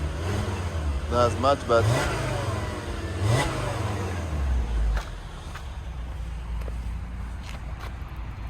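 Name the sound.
VW Jetta engine revving during Sea Foam treatment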